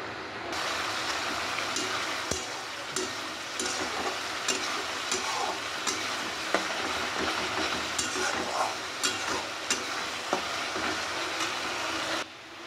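Spice masala with Kashmiri red chilli sautéing in a pan for chicken kosha, a continuous close sizzle with regular spatula scrapes and taps against the pan, no talking.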